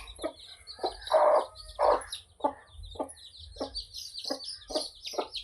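A hen clucks in short repeated bursts while small chicks peep continuously in high, thin chirps close by.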